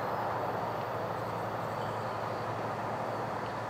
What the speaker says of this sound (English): That was Amtrak P091, Silver Star.